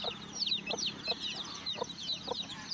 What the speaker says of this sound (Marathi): आपले प्युअर गावराम कोंबडीचे पिल्ल पण किती मोठे झालेत